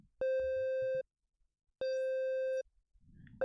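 A triangle-wave tone from the BeepBox synthesizer sounds as two sustained, steady electronic notes, each lasting under a second with a pause between them, followed by faint rustling noise.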